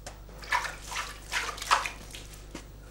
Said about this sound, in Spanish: vamos a echarle un poco de agua, que le falta